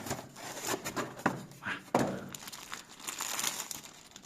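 Plastic bag crinkling as an air pistol is unboxed from its packaging, a close, irregular rustle with a few sharper crackles and handling noises, no talking.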